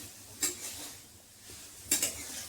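A spoon mixes semolina with salt and turmeric in a bowl, making two quiet bursts of scraping and clinking separated by near silence.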